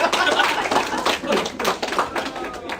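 A stand-up comedy audience gives brief, uneven applause in scattered bursts, with a few claps and taps over a few seconds in the room.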